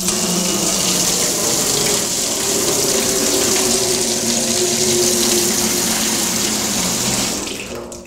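Steady water gushing from a laundry tap, a continuous broadband rush that holds constant before tapering off at the end; no voices.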